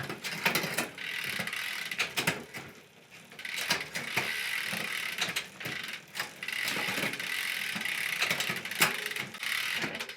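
Bicycle rear derailleur being adjusted for indexing, clicking and ticking through gears as the cranks turn, a close ratcheting whir with bursts of sharp clicks and brief pauses, no talk.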